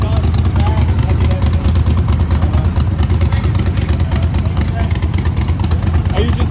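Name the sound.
custom-built car exhaust sound at a car show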